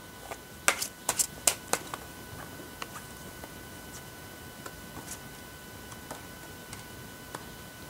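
Tarot cards shuffled and drawn close up, a run of crisp flicks and snaps at the start, then sparse, quieter taps of cards being laid down.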